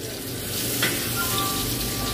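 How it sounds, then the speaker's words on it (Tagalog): Onions sizzle loudly in a hot pan while being stirred, a dense steady frying hiss with a brief scrape of the utensil, close up and without talk. "tapos haluin mo ang sibuyas"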